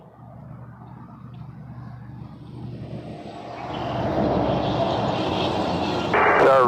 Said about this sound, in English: Airbus 321 touching down